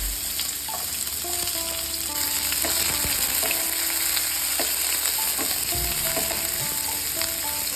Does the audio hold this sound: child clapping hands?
no